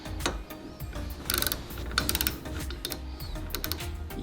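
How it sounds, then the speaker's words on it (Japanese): A ratchet fitted with an 8 mm socket tightens a nut on a homemade anchor winch for a small 2-horsepower boat, giving a run of quick, close clicking and mechanical rattles at a steady working pace. "あとは反対側からここにナットを締め込んでいきます。 使うソケットは 8mm ですね。"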